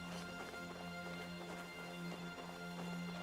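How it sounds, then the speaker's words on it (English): Horses' hooves clip-clop in the video game Kingdom Come Deliverance 2, a soft, fairly distant patter of steps under a steady low hum, faint and continuous for a few seconds with no talking. "The horses are here."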